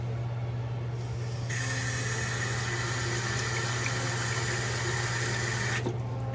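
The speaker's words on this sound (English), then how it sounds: "So I'm adding just a little bit of cold water." Cold water pours into a baking dish for chicken, a steady close splashing stream that starts abruptly, runs for a few seconds, then stops, over a low constant hum.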